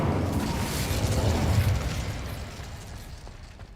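A fire spell cast in Hogwarts Legacy, heard as a loud whooshing burst of flame that swells for about a second and a half, then fades into a crackling tail. No voices.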